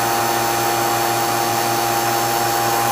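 A steady, loud mechanical whine and hiss of a vacuum pump running continuously, pulling air from a lost-wax casting chamber, with a constant hum and no pauses.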